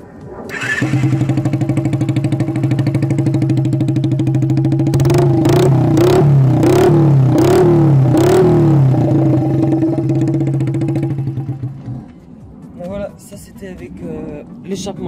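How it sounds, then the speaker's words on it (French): Very loud Honda Dax motorcycle engine running with an open, unmuffled exhaust, heard up close: a steady idle breaks into a run of sharp throttle blips, then the engine cuts off and a few faint knocks follow. "Échappement libre, donc ça fait beaucoup beaucoup trop de bruit"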